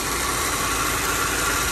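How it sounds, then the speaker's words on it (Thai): A steady Subaru XV 2.0i engine idles close by, a continuous low rumble with a broad hiss and no break or change across the clip. "มีเสียงเครื่องยนต์นะครับ"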